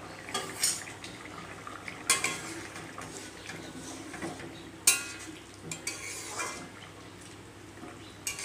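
A spoon stirs fish curry with potato in a metal pot, making repeated scraping clinks over a soft bubbling simmer, close and fairly quiet, with no talking.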